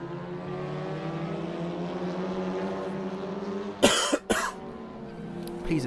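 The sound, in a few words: commentator coughing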